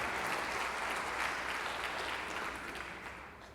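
An audience at a keynote talk breaks into applause, a full, even burst of many hands clapping that fades gradually over a few seconds.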